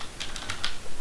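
A quick burst of four or five keystrokes clicking on a computer keyboard, close and crisp, with no voices.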